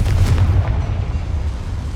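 A Confringo blasting spell in Hogwarts Legacy bursts into a single loud, deep explosion near a boiler. Its low rumble fades away over about two seconds, with no voices.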